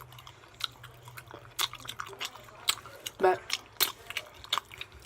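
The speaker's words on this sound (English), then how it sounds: "So I'm gonna be smacking in this video." Wet smacks and crunchy bites from someone eating crab and shrimp at close range, irregular and fairly soft, with a voice speaking briefly in between.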